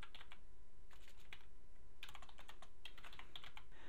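Someone types on a computer keyboard, producing soft, quick clusters of clicks in short bursts under a steady low hum.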